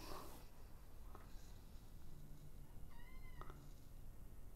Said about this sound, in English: Why are you meowing at me, baby?